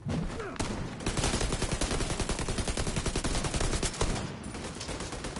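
Rapid automatic gunfire in The Division 2 video game, a dense, loud stream of closely spaced shots rattling steadily for several seconds with brief breaks, close and dominant.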